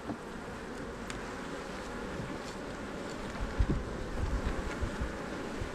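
Honey bees hum around an open hive frame of drawn comb during a bee yard inspection, a steady low buzz with light wind noise throughout and a few nearer passes toward the end.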